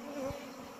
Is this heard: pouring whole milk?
no